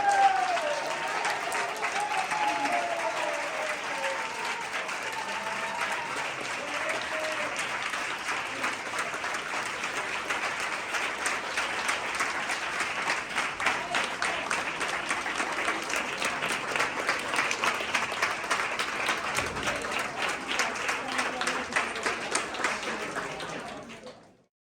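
Sustained applause from a gallery audience after a performance of The Water Remembers, dense and even clapping that continues steadily for a long stretch, with a few voices faintly mixed in, before stopping abruptly.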